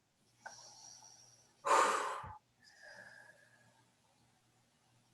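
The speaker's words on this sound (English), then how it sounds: "Take a breath." A person takes a breath: a soft inhale, then a louder, sharp breath through the nose or mouth, followed by a quieter exhale, close and otherwise quiet.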